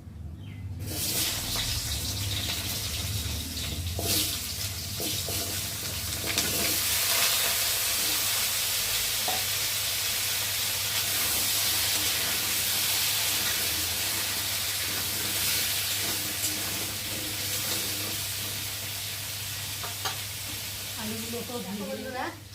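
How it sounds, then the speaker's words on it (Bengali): Cubed potatoes frying in a pan of hot oil with whole cumin seeds and bay leaf give a steady, loud sizzle that runs throughout, with occasional stirring and voices faintly underneath. "আলুটা খুব সুন্দরভাবে লাল লাল করে ভেজে নিয়েছি"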